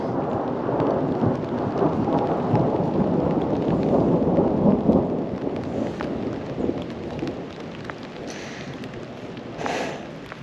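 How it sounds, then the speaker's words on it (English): Thunder rolls through a mountain storm, a loud, sustained low rumble over steady rain that eases slightly toward the end, with no voices. "Yeah, plenty of thunder still."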